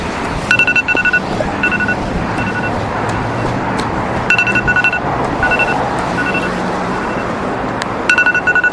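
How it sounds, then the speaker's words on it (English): A repeating electronic alarm beeps in short bursts at intervals over steady roadside traffic noise outside a Starbucks during a run, the tones returning about every few seconds. "And there's my alarm as I approach Starbucks."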